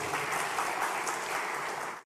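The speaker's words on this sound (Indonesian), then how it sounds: "Tepuk tangan ini untuk Ketua Umum PBPMI yang baru." Applause in a hall greeting a newly elected general chairman at an organization's congress, a dense, even burst of clapping filling the whole moment before cutting off abruptly.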